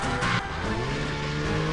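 Scooter in the video game No One Lives Forever ramming and skidding: a continuous loud engine drone with a sustained tire-squeal skid, close and unbroken, with no talk.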